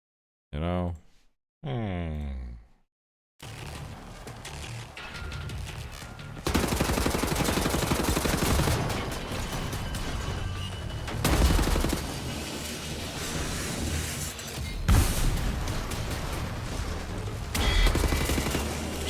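Sustained gunfire from the video game Wolfenstein, a dense continuous fusillade of rapid shots and booms after a brief opening voice, loud and close throughout with occasional heavier bursts.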